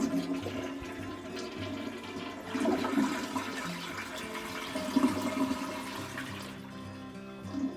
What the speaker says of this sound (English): So I'm gonna send one of the flushes out.